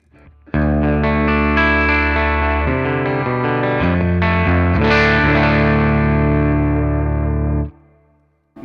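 Electric guitar played through a BOSS Nextone amp set to EL34 power tube mode gives loud, driven chords with a wide, chorused sheen, sustained for several seconds before fading out.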